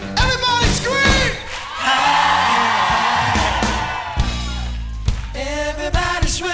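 A crowd at a reunion concert screams and cheers loudly in a sustained roar, with whoops and yells rising and falling and music mixed underneath.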